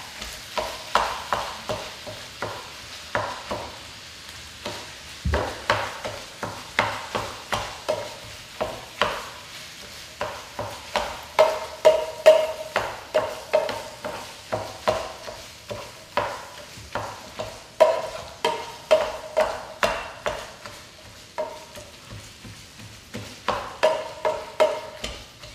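85% lean ground beef cooks in a pan, a steady run of spatula scrapes and stirring clacks over a low sizzle, close and continuous throughout.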